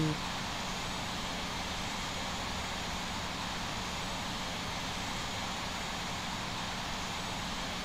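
An aircraft taxis toward the runway in the Infinite Flight game, its engine giving a steady, even drone that holds at constant loudness throughout.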